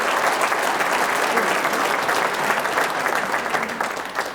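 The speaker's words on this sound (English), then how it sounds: "that deserves a round of applause" An audience at a spring band and orchestra concert gives dense, sustained applause. The clapping stays loud and steady throughout, then eases slightly at the end.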